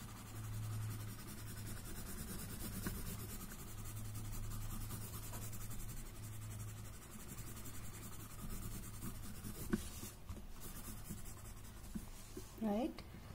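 A pencil blends and shades a drawing on paper, making a continuous soft scratchy rubbing of steady, close strokes with a low background hum throughout.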